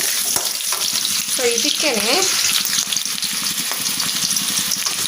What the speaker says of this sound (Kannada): ಇವಾಗ ಇದನ್ನು ಲೈಟಾಗಿ ಫ್ರೈ ಮಾಡ್ಕೊಳ್ಳೋಣ.